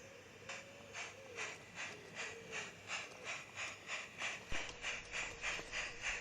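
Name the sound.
light railway train shunting at Beeston Castle station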